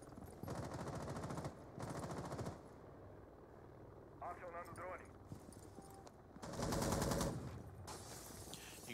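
Rapid bursts of automatic gunfire from a Rainbow Six Pro League PC match, with several sustained volleys and brief pauses between them, loud and close under a commentator's continuous talk.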